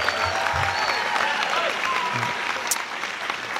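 Graduation ceremony audience applauding for seniors, a dense, steady wash of clapping from a large crowd that holds at an even level throughout.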